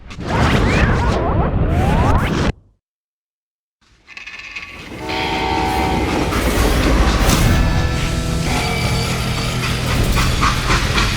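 A freight train rolls along in the game Call of Juarez: Gunslinger, a loud rumbling clatter that cuts out into a brief silence, then returns with droning metallic tones.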